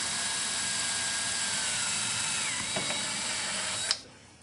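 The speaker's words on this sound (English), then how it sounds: "I got two drills here set up, one for drilling, one for doing the bolts." A power drill whines steadily while boring into the bumper of a Foxbody Mustang for a Mach 1 chin spoiler, running close and continuous before stopping abruptly near the end.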